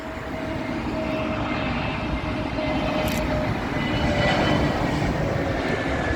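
An Iberia Airbus A320neo arriving at Heathrow runway 27L, a loud continuous engine roar and rushing jet noise held steady throughout, close overhead with no speech.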